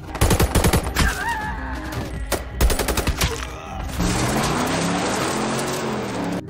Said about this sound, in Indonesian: Akan tetapi hal itu membuat Travis tertembak.